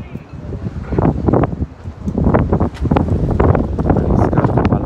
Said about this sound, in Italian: Soffia il vento forte.